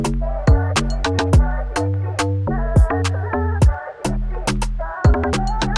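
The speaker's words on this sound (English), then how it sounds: "For number 5, we're going to be talking about the log drum." Short, plucky log drum bass notes roll through a producer's beat, with deep punchy hits in quick runs and clicky percussion on top, loud and steady across the whole stretch.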